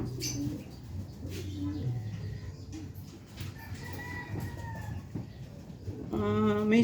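Pigeons coo and cluck nearby in a low, repeated rhythm, with one rising squawk near the end.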